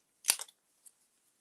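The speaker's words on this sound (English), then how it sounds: "So I'm just going to cut this out." Scissors snip paper while fussy cutting images for a handmade card: a brief quick cluster of crisp close cuts, then one faint lone snip, in an otherwise quiet room.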